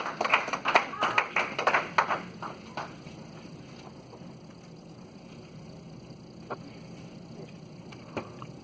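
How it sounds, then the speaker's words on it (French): A church congregation bursts into quick applause for a couple of seconds, several sharp claps close together that fade into quiet room tone with a few scattered taps. "Applaudissez le Seigneur pour vous-même."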